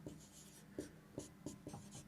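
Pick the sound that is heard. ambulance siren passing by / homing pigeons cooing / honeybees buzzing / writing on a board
writing on a board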